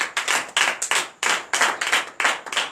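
Church congregation clapping together in acclamation during a service, a run of loud, uneven bursts of applause with rhythmic surges and brief gaps, no talking.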